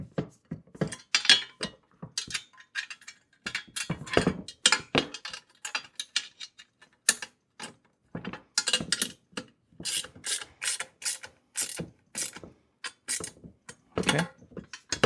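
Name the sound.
tightening bolts on a garden dump cart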